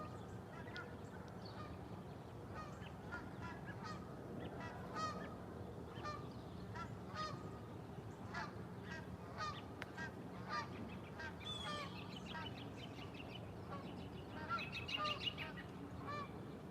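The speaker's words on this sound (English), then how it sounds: "You can hear the geese flying overhead." Geese honk repeatedly as they fly overhead near a fishing spot, a loose chorus of calls at moderate distance over steady outdoor background noise, with no talk.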